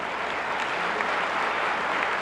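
Steady, dense applause from the audience at a Hindi kavi sammelan of patriotic veer ras poetry, loud and continuous throughout with no pause.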